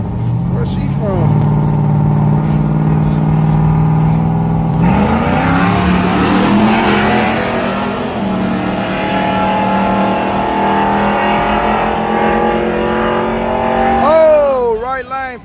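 Drag racers launch and accelerate down a dragstrip at night, loud engines roaring and rising in pitch, with a gear shift and a final high revving pass, while spectators chatter nearby.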